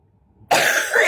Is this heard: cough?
yes